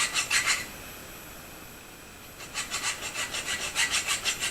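A file rasps a groove into a nail being shaped into a retrievable blowgun dart, close and steady in short back-and-forth strokes, pausing briefly before a longer run of even rhythmic strokes.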